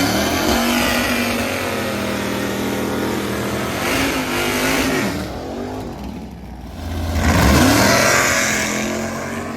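A nostalgia gas drag race car roars loudly as it launches down the drag strip, its engine revving hard, dipping briefly, then surging again as another pass thunders by.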